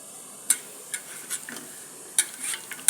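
Soaked tamarind is squeezed by hand in water with turmeric, giving a handful of sharp wet squelches and clicks scattered irregularly over near-quiet background, with no talking.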